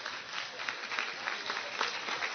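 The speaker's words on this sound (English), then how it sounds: "if they might stand and receive our special applause if you're back for your 50th reunion" Audience applause for returning 50th-reunion class members standing to be recognized, a steady, fairly quiet wash of many hands clapping continuously throughout.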